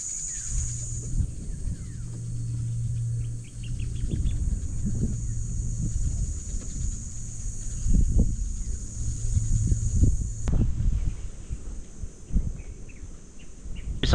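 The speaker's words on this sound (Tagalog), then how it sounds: "yung ingay ng kalikasan ng mga ibon" Birds sing and chirp around a campsite, light calls scattered across the scene over a steady insect-like hiss and low ambient rumble, fairly faint and distant with no talking.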